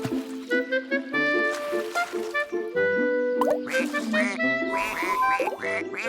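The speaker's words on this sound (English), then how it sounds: "With all their quacking and quacking, how could we sleep?" Cartoon ducks quack repeatedly over bright, busy music, with a few watery plops mixed in; loud and close.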